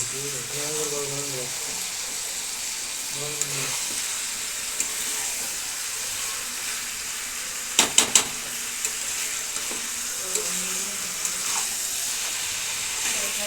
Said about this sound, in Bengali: এটাকে কষাতে হবে গ্যাসটা একটু আস্ত করে দিয়ে